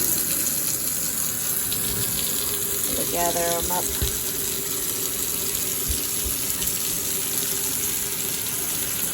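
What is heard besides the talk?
hot water running from bathtub tap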